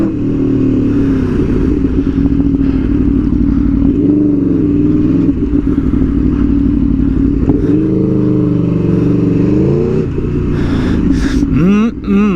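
An Aprilia motorcycle being ridden, its engine a loud, continuous drone that rises and falls in pitch with throttle changes, with rushing wind noise near the end.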